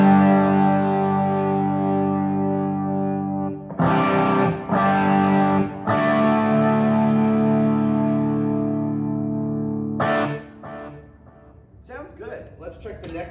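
Electric guitar through a 1972 Marshall JMP 50W amp fitted with NOS preamp tubes, ringing crunchy chords with sharp strummed attacks and long sustain, close and loud, fading toward the end with a voice briefly audible.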